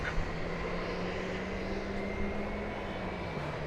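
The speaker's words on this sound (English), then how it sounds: "American Flight 579 arriving from Austin, Texas," An American Airlines Boeing 737-800 arriving at DFW airport from Austin gives off a steady, moderately loud jet roar with a faint droning hum underneath, constant throughout.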